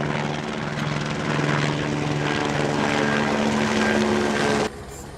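A helicopter hovers during a rescue operation at a mudslide site, with steady loud rotor chop and engine drone that cuts off abruptly near the end.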